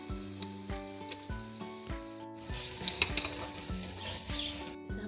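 Leftover boiled rice fries in a pan with vegetables, a steady close sizzle broken by occasional stirring scrapes, with soft music playing in the background and no talk.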